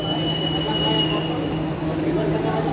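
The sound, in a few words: MRT train departing Blok M station platform, Jakarta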